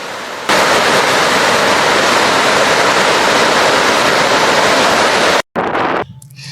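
Vazhachal waterfall in Kerala, flowing broad like a river, fills the clip with a loud, close, unbroken roar of rushing water that cuts out abruptly near the end and then resumes. No voices.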